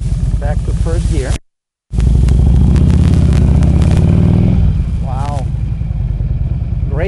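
A 2007 Harley-Davidson Road King Classic engine revs hard, its pitch climbing and dropping through repeated throttle bursts, with a brief cut in the middle and a short exclamation from someone nearby.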